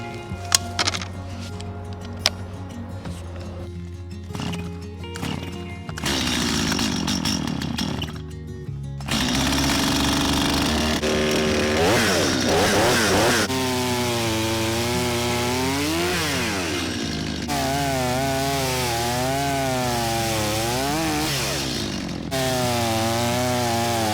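A chainsaw cuts into wood, its engine note shifting and wavering as the blade bites, loud and close, with short idling and revving bursts before the sustained cutting.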